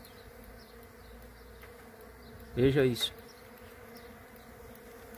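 Caatinga native bees buzzing around swarms at their hives in spring, a faint steady hum with one close, louder buzzing pass in the middle; a voice speaks briefly.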